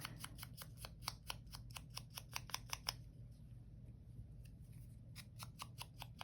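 Scissors snip paper for an embossed card in a quick, close run of crisp cuts, pausing briefly before another short burst of snips, quiet and without talk.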